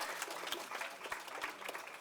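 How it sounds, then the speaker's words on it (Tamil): Audience clapping at a Tamil film music launch event, a steady patter of hands from a modest crowd heard at a distance, with a voice faintly under it. "எல்லாம் ஒரு பலத்து கைத்தட்டு கொடுத்துடலாம்"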